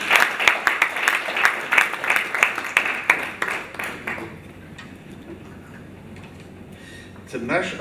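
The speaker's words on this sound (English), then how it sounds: "So I would appreciate it if you can clap very loud." An audience at the opening day of an African school on decentralisation claps for about four seconds, crisp overlapping hand claps that fade into quiet room tone before a voice begins speaking.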